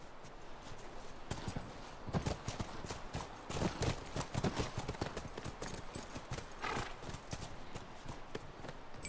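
Horses in the video game The Last of Us clip-clop with steady, repeated hoofbeats, moderately close, over a low background ambience.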